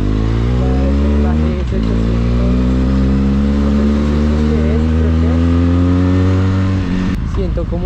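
A 500 cc motorcycle, a TRK fitted with a new exhaust, idles with a deep throbbing rumble close by, the pitch rising and falling as the throttle is blipped twice, loud and continuous throughout.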